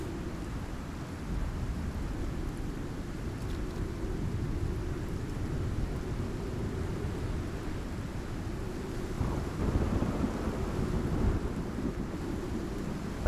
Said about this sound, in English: That storm sounds ridiculously loud for some reason.